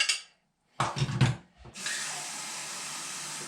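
A portable water flosser is refilled at a tap: a short spray, a few clunks and splashes of handling, then water running steadily and close into the reservoir.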